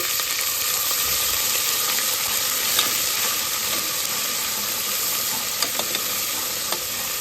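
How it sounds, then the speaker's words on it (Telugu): Ginger-garlic paste fries in a pan with a steady, close, bright sizzle and hiss throughout, broken by a few faint scraping stirs. "పచ్చివాసన పోయే వరకు లేపుకోవాలి"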